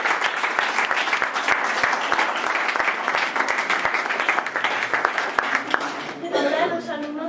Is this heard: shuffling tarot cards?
no